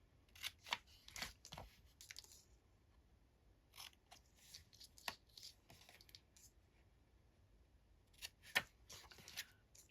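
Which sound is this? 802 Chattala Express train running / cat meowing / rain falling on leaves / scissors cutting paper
scissors cutting paper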